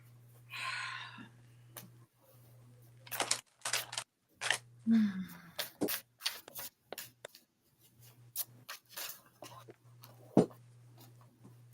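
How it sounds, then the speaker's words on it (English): Tarot cards are shuffled for a psychic reading, close soft riffling and rubbing with scattered taps and flicks in irregular bursts, with a short burst of talk near the start. "And I'm shuffling for you, honey."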